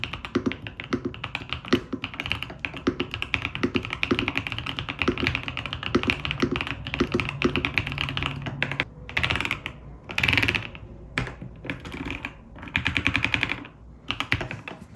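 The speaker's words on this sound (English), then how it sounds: "Now let's listen the typing sound." Steady, fast typing on a Yunzii B75 Pro Max mechanical keyboard with pink candy switches: dense, crisp keystroke clacks close up, thinning into short bursts and pauses toward the end.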